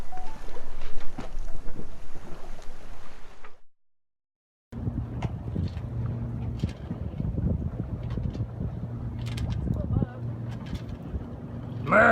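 Wind buffets the microphone aboard a sailboat, gusty and loud, with a brief dropout, then steady low engine or hull rumble and rushing air.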